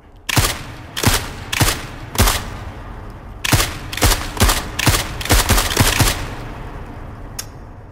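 Gunfire from a long rifle in a shooting video game: around a dozen sharp, loud reports in quick irregular clusters, some in rapid bursts, each trailing a brief echoing decay.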